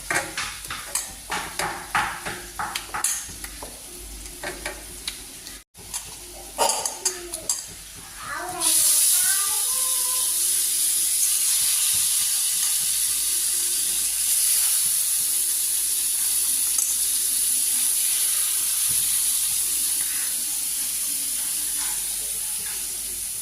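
Hilsa fish pieces sizzling and hissing loudly in hot oil in a pan, following a stretch of clinking pot sounds; the frying hiss is steady and close, with a voice speaking briefly beforehand.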